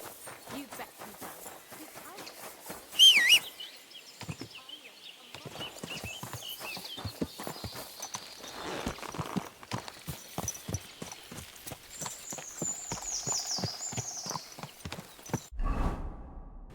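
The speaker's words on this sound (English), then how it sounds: "we are gonna go onto our horse, Herring," Horse hooves clip-clop at a steady walking pace in the Kingdom Come: Deliverance II video game, with a brief whinny early on and someone talking over the rhythmic footfalls.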